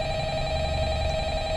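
Steady electronic telephone ring in the video game Five Nights at Freddy's, a sustained tone held over a low background hum with no pause.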